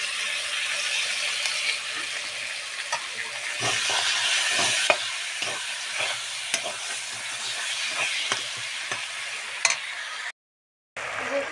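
Whisked sour curd goes into frying masala in a pan for a doi rui curry, bringing a steady close sizzle with repeated scraping stirs and a brief silent gap near the end.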